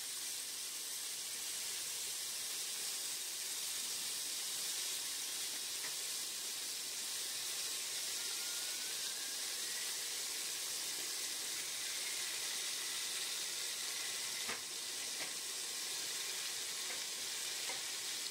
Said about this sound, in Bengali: স্কোয়াশ আর আলুগুলো দিয়ে একটু ভাজবো আমি